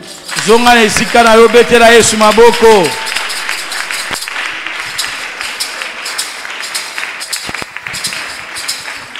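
A church congregation at an Easter celebration service breaking into applause and cheering for Jesus, a dense steady clapping that continues after a loud voice speaks over its start.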